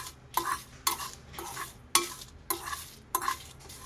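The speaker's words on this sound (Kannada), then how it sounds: "ಇಷ್ಟನ್ನು ಚೆನ್ನಾಗಿ ಡ್ರೈ ರೋಸ್ಟು ಮಾಡ್ಕೋಬೇಕು" Byadgi chillies are dry roasted and stirred in a pan, a close rhythmic series of six scraping, rustling strokes roughly every half second, with no talking over them.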